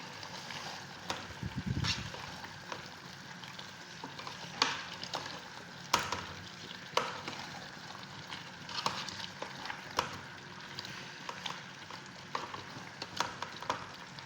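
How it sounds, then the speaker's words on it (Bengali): Camel meat with potatoes and carrots sautés quietly in a pan, a soft low sizzle punctuated by regular scraping clicks of a spoon stirring. "ভালো করে কষাইলাম এখন আলু আর গাজল দিয়ে দিব"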